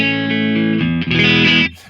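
Clean electric guitar through the Genome plugin's California Cleans amp with reverb off, a sustained chord ringing and then changing to a new strummed chord before cutting off, alone and close.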